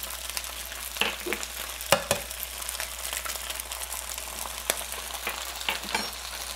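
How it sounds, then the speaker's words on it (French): Two eggs fry in a little oil in a well at the centre of fried rice in a wok, giving a continuous close sizzle broken by occasional scraping and tapping of a utensil. "Donc là, on va laisser les œufs cuire au milieu comme ça, sans brasser le riz."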